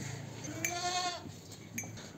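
A sick, weakened goat on a goat farm lets out a single wavering bleat, moderately near, over faint farmyard background noise.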